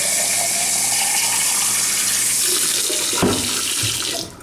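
Hot water pours steadily into an insulated mug to prime it, a loud continuous splashing gush close by that fades out at the end, with no voices.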